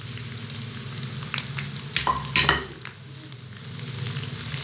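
Cumin seeds and whole black pepper fry with garlic and ginger in a pot for dal tadka, a low, steady sizzle broken by a brief burst of stirring scrapes and metal clatter in the middle, with no voices.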